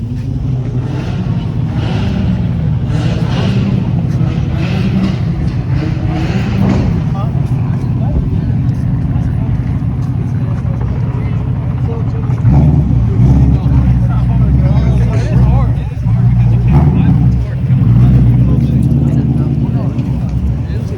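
Roush car engine rumbling and revving at a lively car meet, a loud continuous low drone that swells and surges in the second half, with people talking over it throughout.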